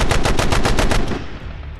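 A rapid burst of about eight machine-gun shots rattles out loud and close for a tabletop wargame battle between Imperial Fists and Raven Guard, then trails off into a fading echo.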